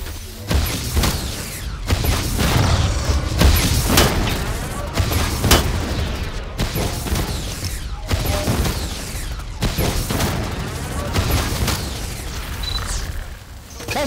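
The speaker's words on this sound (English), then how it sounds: "Stop shooting at him!" Gunfire in Predator: Hunting Grounds, sustained bursts of automatic weapons and booming blasts rolling almost continuously across the whole stretch, loud and dense with brief gaps between volleys.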